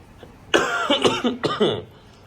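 A person coughs several times in a quick rough cluster, then coughs again after a short pause, close and fairly loud.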